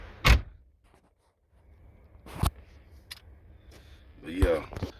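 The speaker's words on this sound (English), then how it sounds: "Let me close this door." The door of a ninth-generation Chevy Impala shuts with a sharp, close thud, one of several short bangs spread out over a few seconds, with a brief voice near the end.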